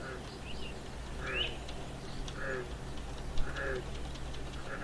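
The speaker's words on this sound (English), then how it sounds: "There's a bird." Bird calls in the survival video game The Unreal World sound as three or four short, faint chirps spaced about a second apart over a low steady ambient hum.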